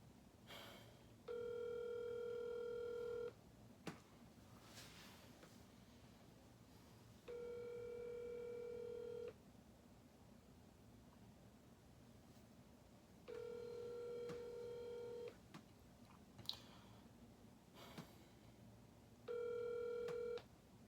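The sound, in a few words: telephone call dialing and ringing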